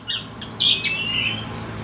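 An oriental magpie-robin gives a brief series of sharp, bright whistled chirps close by, with a short squawky note, over a quiet low hum.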